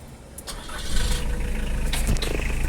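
A car engine cranks and catches during an air-conditioning repair check on a customer's car, its low rumble rising and settling into a steady near idle, with no talking.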